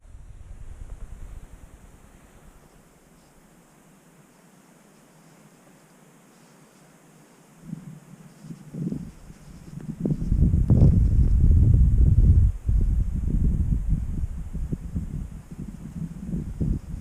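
A cold northwest wind blows outdoors, calm and faint at first, then rising into loud, rough gusts that buffet and roar before settling into a steady rush.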